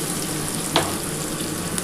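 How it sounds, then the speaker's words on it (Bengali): Chopped green amaranth leaves go into a pan of onion and garlic frying in oil, giving a steady sizzle with one brief sharp crackle as they land. "এবার আমি শাকটা দিয়ে দিচ্ছি।"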